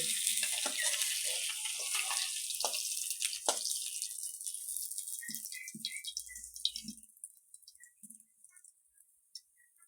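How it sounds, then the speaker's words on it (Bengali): Fish frying in oil until reddish, a loud close crackling sizzle that gradually thins out, leaving scattered pops and small clicks by the end. "লাল লাল করে ভেজে নিচ্ছি, এবার নামিয়ে নেব।"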